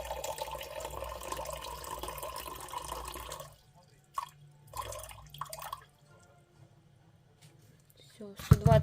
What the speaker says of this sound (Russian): Нужно здесь смешать в стакане 120 мл воды.